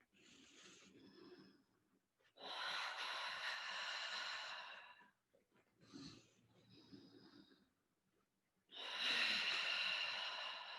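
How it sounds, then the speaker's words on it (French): Deep, forceful breaths during a Pilates mat exercise: long noisy exhales and shorter inhales in a slow alternating rhythm, close and fairly loud, with brief quiet gaps between them. "je vais souffler. Je monte, j'inspire."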